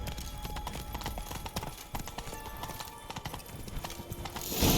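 Roach the horse's hooves in Witcher 3 clip-clop steadily and close, a continuous trotting rhythm over a low ambient bed, with no talking.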